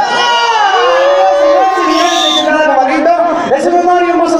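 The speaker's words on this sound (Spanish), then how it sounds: "nos escucha el grito de la gente más escandalosa" A festival crowd at FAMEX 2019 shouting, whooping and cheering loudly and continuously, a dense wall of voices with shrill high cries rising above it throughout.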